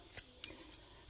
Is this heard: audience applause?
no